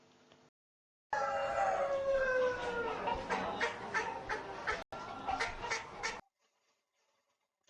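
Several chickens cluck and squawk loudly in a burst of overlapping calls, rising and falling for about five seconds before cutting off, with faint quiet sound before and after.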